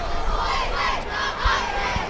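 Crowd and cheerleaders cheering at a high school football game between Enid Plainsmen and Stillwater, a sustained roar of many voices with rising shouts, steady and fairly loud throughout.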